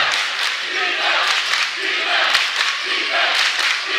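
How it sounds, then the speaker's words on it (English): A crowd at a varsity high school basketball game cheers and yells continuously with a loud, sustained roar, with shouted voices standing out within it. "East crowd very into it."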